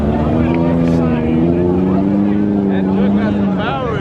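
A loud truck engine roars and revs steadily close by at a car meet, its pitch climbing and holding, with voices talking over it.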